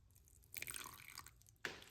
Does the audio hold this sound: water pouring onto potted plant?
yes